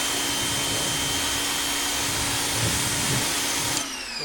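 An Active 2.0 120V electric pressure washer sprays water through a 25 degree nozzle with a 4.0 orifice, a loud steady hiss and motor whine that drops off abruptly near the end.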